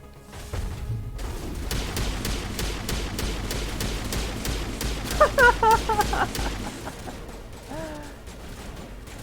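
Gunfire in Mass Effect: Legendary Edition, with rapid sustained shots rattling over a rumbling combat background, then tapering off into quieter game sounds.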